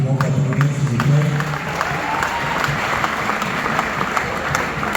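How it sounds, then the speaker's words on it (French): A crowd applauds and cheers for the artists at a concert in Kinshasa, loud sustained clapping with voices and whoops mixed in, a brief tonal shout or whistle early on. "je vous demande d'applaudir s'il vous plaît"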